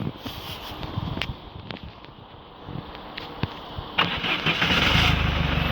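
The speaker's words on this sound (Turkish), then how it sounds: "Arabayı çalıştırdım." A car engine cranks and catches after a remote start through a WiFi start module. Scattered clicks and faint noise come first, then a sudden start about four seconds in, settling into a steady, close idle.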